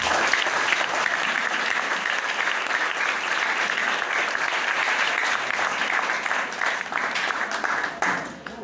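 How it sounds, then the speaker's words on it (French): A church congregation breaks into sustained applause, dense rapid clapping from many hands filling the room and fading slightly toward the end. "Est-ce qu'on peut mettre là un applaudissement royal?"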